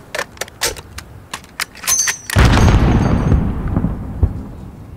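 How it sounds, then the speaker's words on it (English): A heavy mortar blast from Call of Duty Modern Warfare booms midway, loud and rumbling as it decays, preceded by a scatter of sharp clicks and small impacts. "There's still a mortar out there."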